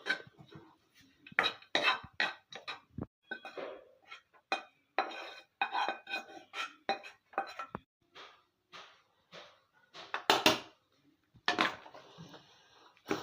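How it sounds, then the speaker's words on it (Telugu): Rice is mixed into tamarind paste in a metal vessel for tamarind pulihora, with irregular scraping, clinking and knocking of a spoon against the pot, close and sporadic with quiet gaps. "దీంట్లో కొద్దిగా రైస్ వేసుకొని ఇంకా కొంచెం రసం ఉంది కదా ఇలా కలుపుకున్నాం"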